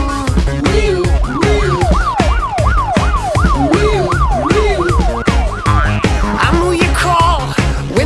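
A police siren wails in quick rising and falling sweeps over an upbeat song with steady drums, loud and close.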